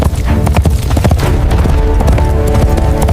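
Galloping iron horse hooves in a fiery battle, a dense, loud clatter of rapid hoofbeats over booming rumbles and crashes, continuous throughout.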